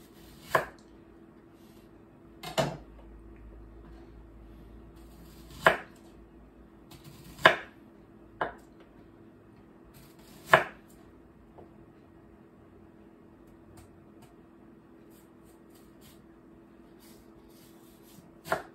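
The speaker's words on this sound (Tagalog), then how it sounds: "And the 1 onion is sliced." Knife cutting through a sliced onion on a board while making Filipino beefsteak, giving about seven sharp, separate chops spaced a second or two apart over a quiet kitchen hum, with no talking.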